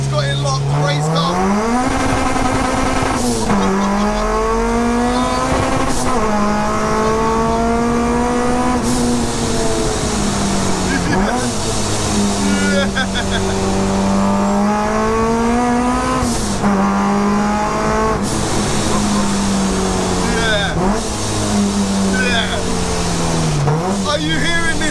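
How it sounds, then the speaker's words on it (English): A supercharged K20-swapped Honda Civic coupe time attack car races hard, its engine climbing and dropping through repeated gear changes with a loud continuous howl, while people talk excitedly over it. "Are you hearing the sound of this K20 heaven?"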